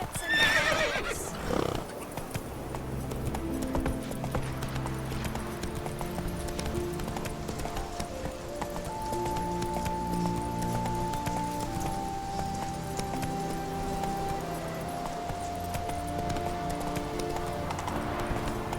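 A horse gallops with steady, rhythmic clip-clop hoofbeats and whinnies in The Witcher 3, with game music playing continuously underneath and a brief shout near the start.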